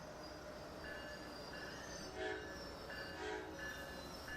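A train in the Rail Sim Universe video game runs along at a decent speed with a steady low rumble, while faint horn tones sound intermittently over the quiet rolling noise.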